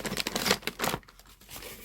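Small vases being unwrapped from their wrapping, with a second of close, loud tearing and crinkling of paper, then quieter rustling.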